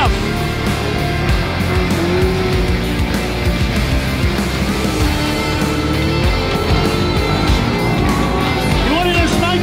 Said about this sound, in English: You wanted to smoke the tires off this thing?